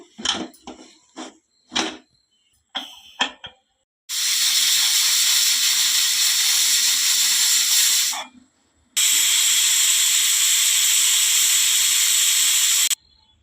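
Pressure cooker on the stove cooking drumstick and toor dal sambar with Seema vankaya, letting out two long, loud, steady bursts of steam hiss after a few brief clatters.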